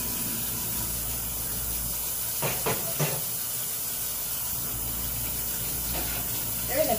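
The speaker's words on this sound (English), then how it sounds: "Yep, I'm gonna wash my hands now." Hands being washed under a running kitchen tap, a steady hissing water stream throughout, with a few brief clattering splashes partway through.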